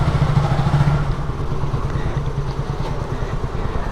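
A motorcycle engine idles and rumbles steadily nearby, a low continuous throb with slight clatter and no break throughout.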